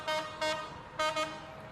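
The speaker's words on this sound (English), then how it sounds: "honking to the tune of Jingle Bells" Vehicle horns honking a tune in a downtown holiday parade in Wilmington, North Carolina: four short toots in a rhythmic pattern, two pairs, moderately loud over a faint crowd background.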